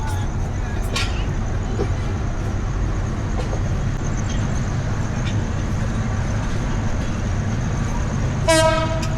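Night train pulling out of Jadabpur station after a two-minute halt: a steady low rumble of carriages with faint clanks, ending in a loud horn blast near the close.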